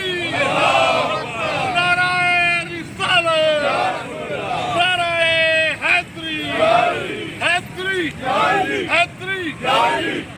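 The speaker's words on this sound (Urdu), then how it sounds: "بلدیاتی ملازمین سندھ کے وزیر اعلیٰ افسر شاہی اور ناانصافیوں کے خلاف نعرے بازی بھی کی گئی" A crowd of municipal workers protesting in Sindh, Pakistan, chants slogans loudly and rhythmically in unison, with shouted calls and responses repeating over a windy outdoor background.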